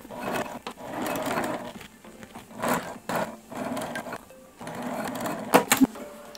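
A sewing machine stitches a half-inch seam on a bucket hat with a 2.5 mm stitch length, running in several short bursts separated by pauses, with a few sharp clicks near the end and no voices.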